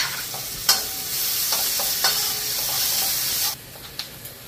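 Spices and a little ginger paste sizzle in a hot pan for an egg dish while a spoon stirs and scrapes. The frying hiss is loud and steady, broken by clinks of the utensil, with no talk.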